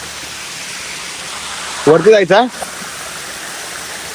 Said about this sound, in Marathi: जास्त पाऊस असल्यावर हा पूर्ण पाण्यासारखा धबधबा पूर्ण भरलेला असतो हा.